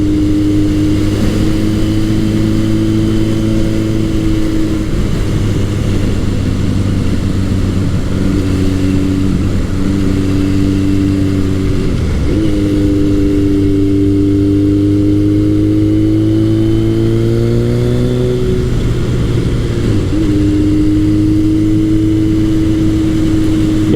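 A Kawasaki KZ1000 motorcycle fitted with a Delcovic exhaust pipe accelerates hard, its loud, close engine note climbing steadily through the gears with brief dips at each shift, continuous and steady throughout.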